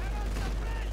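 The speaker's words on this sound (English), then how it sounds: "I use this rifle grenade." A rifle grenade fires in Company of Heroes 2, a single sharp blast with dense battle rumble and gunfire layered throughout, under faint voice.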